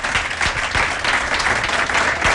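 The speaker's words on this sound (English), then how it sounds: "Can I ask the audience to give a round of applause, please, to our fabulous panel of guests?" A studio audience gives a round of applause for a panel of guests at a Nedbank business seminar on entrepreneurship, a steady dense clapping that stays loud and even throughout with no voices over it.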